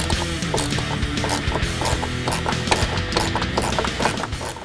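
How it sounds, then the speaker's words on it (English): An 8mm bolt is worked loose with a ratchet from the bottom of the grille on a 2015-2016 Ford F-150, giving rapid, steady clicking of the pawl throughout, close and fairly loud. "there's an 8mm bolt on the bottom of the grille that needs to be removed on both sides"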